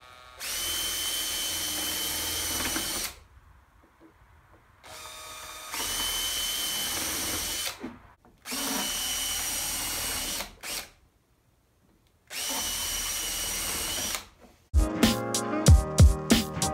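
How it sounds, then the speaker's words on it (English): A power drill pre-drills screw holes through wood for glued and screwed corners, whirring in four sustained bursts of a few seconds each, separated by quiet pauses, then a short clattering, ratcheting rattle at the end. "I'm gonna pre-drill through here for some screws"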